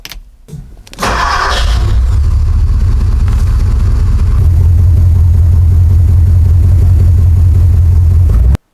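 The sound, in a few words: car engine starting and running after spark plug change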